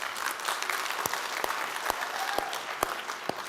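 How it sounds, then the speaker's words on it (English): A small audience at a networking talk gives a quiet round of applause for Karen, soft steady clapping with a few sharper individual claps standing out, heard fairly distant throughout. "A big round of applause for Karen."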